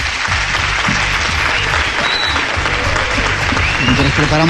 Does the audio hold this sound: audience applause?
yes